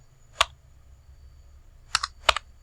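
A few keystrokes on a computer keyboard while entering an Excel formula: one isolated click, then a quick cluster of two or three presses near the end, close and crisp over a quiet hum.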